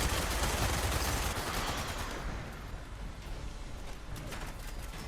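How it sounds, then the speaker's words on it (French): Gunfire in the video game Fallout 76, a dense, continuous burst of rapid shots filling the scene loudly, thinning slightly toward the end with no talking. "Il y a encore des tirs vers le sud."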